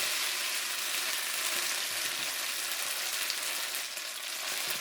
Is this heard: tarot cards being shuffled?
no